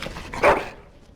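A dog in the fantasy role-playing game Dragon Age: Origins lets out a single short bark over soft background game ambience, loud and close, fading quickly afterward.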